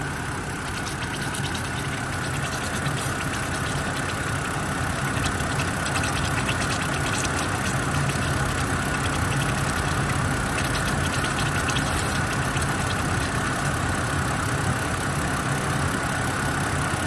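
A BMW 328i E90 engine idles steadily during coolant bleeding after a water pump and thermostat replacement, a continuous even hum with a faint ticking texture, close and unbroken throughout.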